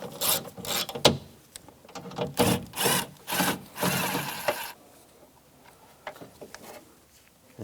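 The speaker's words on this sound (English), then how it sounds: "Using a 10mm socket, take this screw out." A 10mm socket wrench ratchets a screw out of a 2004-2009 Toyota Prius rear door during window regulator replacement. Close, rhythmic rasping bursts come in several strokes, then fade to quieter handling noises, with no speech.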